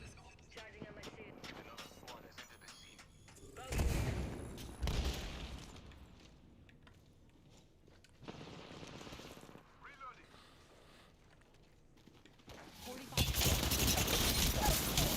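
Bursts of gunfire in Apex Legends, loud clustered volleys separated by quieter stretches with faint game voices and background noise, ending on a sustained heavy burst.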